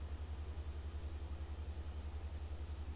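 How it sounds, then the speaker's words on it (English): The Flight Factor A320 engine spools up in the X-Plane 11 flight simulator, a steady low rumble with a fast regular pulsing hum, moderately quiet and continuous, no voices. "Just listen to that engine start up."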